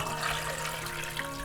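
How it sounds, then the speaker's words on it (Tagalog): Water poured into a cooking pot holding about a kilo of pork, a steady rushing pour filling the clip at close range with no voices. "Add the water."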